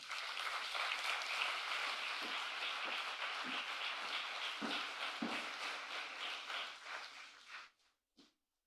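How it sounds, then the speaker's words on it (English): Steady audience applause welcoming a speaker at an independence anniversary lecture, a sustained wash of clapping at moderate distance that fades out and stops near the end. "Please clap as we welcome Ms."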